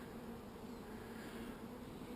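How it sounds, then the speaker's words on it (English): Bees cluster at the entrance of a pipe nest, a faint, continuous droning buzz with a steady hum and no break. "you get a lot more bees clinging to the front"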